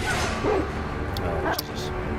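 Dogs bark and yip in Sekiro: Shadows Die Twice on Xbox One X, short sharp game barks over a busy combat soundscape, with players talking over them.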